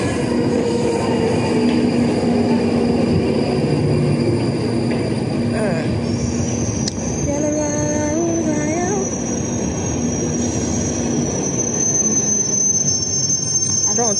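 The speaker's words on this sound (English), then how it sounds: "My train is here." A London Underground Northern Line train pulls into the station, a continuous rumble of wheels on track with rising metallic squeals and high screeching tones as it slows, heard close up with a voice speaking briefly early on.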